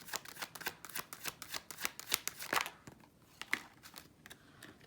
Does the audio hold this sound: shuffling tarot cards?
yes